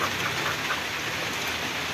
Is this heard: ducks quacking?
no